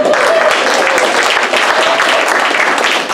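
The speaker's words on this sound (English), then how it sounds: "a big round of applause for Rhonda, who's going to hold this game" An improv comedy show audience bursts into loud, sustained applause, a thick, steady patter of many hands lasting a few seconds, with faint voices mixed underneath.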